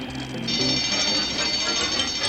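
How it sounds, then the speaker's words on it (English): Cartoon fire alarm bell ringing in a school science building, a shrill continuous electric ring that swells in and holds steadily, moderately loud, with no talk. "That's a fire alarm."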